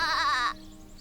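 A single sheep in Divinity: Original Sin Enhanced Edition lets out one short, wavering bleat, clear and close, then falls quiet.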